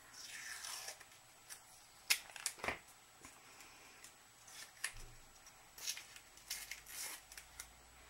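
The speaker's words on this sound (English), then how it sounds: "first I'm going in with some more of the masking tape. Just tear it." Masking tape is torn from the roll over a paper page: a run of quick, crackling rips and rustles in uneven bursts, close up, with no voices.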